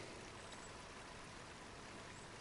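River stream in a video game, a faint, steady broadband rush of flowing water with no breaks or other sounds.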